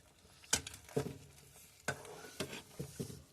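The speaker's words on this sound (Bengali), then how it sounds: "একটু নাড়াচাড়া করে নিব।" A spoon stirs a small fried-fish curry simmering in water in a pan. About eight faint scraping and clinking strokes come in an uneven rhythm, with no talk over them.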